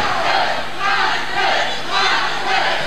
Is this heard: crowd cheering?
yes